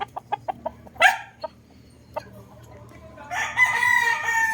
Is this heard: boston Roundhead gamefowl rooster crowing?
yes